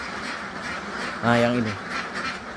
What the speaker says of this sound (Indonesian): Untuk bebek yang sudah produksi ini kan sudah umur